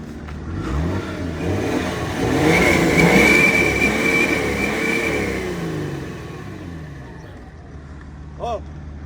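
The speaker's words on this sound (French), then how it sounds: "Tu peux nous mettre quelques coups d'accélérateur?" BMW car engine with about 365,000 km, revving in a few throttle blips that swell and fall over several seconds. The engine sounds mid-pitched and fairly close, with people talking over it.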